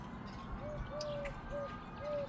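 Birds coo and chirp in short, repeated calls over a steady background hum outdoors on a sunny day, fairly faint and with no talking.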